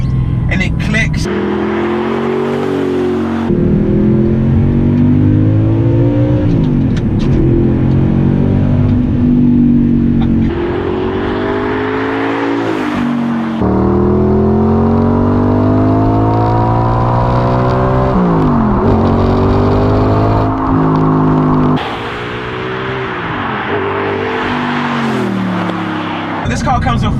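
2009 Audi R8 with a 4.2 litre V8 and Milltek exhaust, engine note climbing and falling through repeated revs and gear changes, loud and close, with someone talking over much of it.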